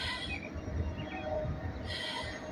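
A train passing in the distance, a steady low rumble of rolling wheels with faint high squeals and a hissing wash that fades and returns, heard outdoors and fairly far off.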